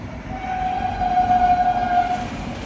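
A train rushes by with a loud rumble while its horn sounds one long sustained blast over the noise.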